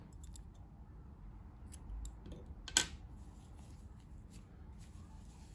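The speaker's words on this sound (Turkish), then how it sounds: "İpliği kesiyorum." A single short snip of scissors cutting knitting yarn, quiet and close, standing alone over soft background rustle.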